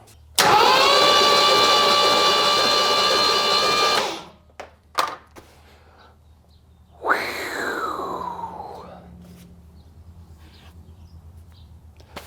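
A Ford Foxbody Mustang with a GT40 heads and B cam engine cranks over with the spark plugs out, a loud, even, whirring starter drone for about four seconds, then clicks and a second, fading whir.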